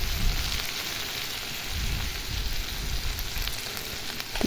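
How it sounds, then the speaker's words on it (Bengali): Drumstick flowers sizzle steadily in hot oil in a pan, a continuous dense frying crackle with low bubbling pulses, close and even throughout with no voices. "তো ভেজে দেখুন ওখানে ফুল দিয়ে দিলাম"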